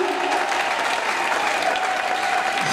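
Congregation applauding and cheering at a French-language prayer service, a dense, steady wash of clapping from a large crowd throughout, loud and sustained with no speech standing out.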